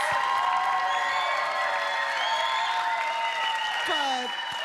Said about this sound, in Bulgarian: Аплодисменти за Тапия Денс Хаус!